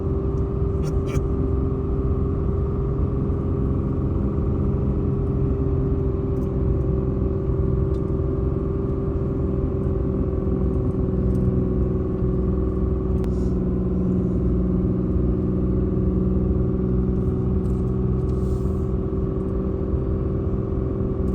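A car's engine and exhaust drone steadily from inside the cabin as it drives in second gear through open countryside in Canada. The low rumble stays constant throughout.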